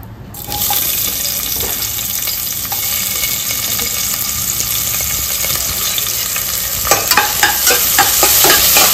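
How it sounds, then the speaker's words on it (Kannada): Chopped onion dropped into hot coconut oil for a Mangalorean chicken curry, a loud, dense, continuous sizzle close by, with stirring clatter and sputtering bursts growing busier toward the end; no one speaks. "ಎಣ್ಣೆ ಕಾದ ಮೇಲೆ ಉಂಟಲ್ಲ ಕಟ್ ಮಾಡಿಟ್ಟಂತ ನೀರುಳ್ಳಿ ಹಾಕೋದು ಇದಕ್ಕೆ"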